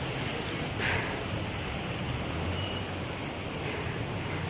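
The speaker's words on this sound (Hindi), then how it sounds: "शायद से ये वाटरफॉल का ही पानी यहाँ आ रहा होगा" Steady, dense rush of water flowing from Jogini waterfall near Manali, running beside a rough dirt path. The wash is continuous and fairly close, with no clear breaks.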